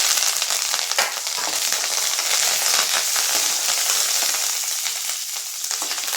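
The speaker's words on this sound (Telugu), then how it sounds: "కరివేపాకు కూడా కొద్దిగా వేగితే బాగుంటుంది కాబట్టి ఈ ఎండుమిర్చితో పాటు వేసేసుకుంటే" Garlic, dried red chillies and curry leaves fry in oil with a loud, close, crackling sizzle that keeps going, with small pops and bursts throughout.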